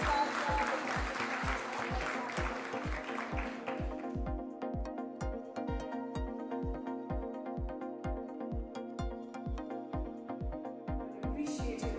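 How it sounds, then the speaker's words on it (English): Applause from an audience at the NAREDCO Real Estate 2030 conference in Mumbai fills the first few seconds over a steady, beat-driven music track, then fades, leaving the music pulsing alone. "Appreciate your round of applause."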